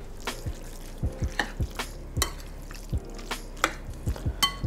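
Cheese gets folded into a cheesy beef empanada filling, with a spoon scraping and tapping against a pan in a steady, intermittent rhythm and soft wet stirring between the clicks.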